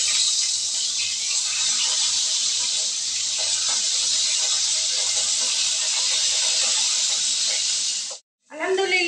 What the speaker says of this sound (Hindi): फिश को भी इसी तरह फ्राई कर लेना है